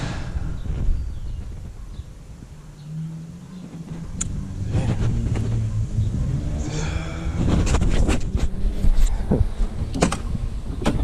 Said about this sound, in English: Car's running, man.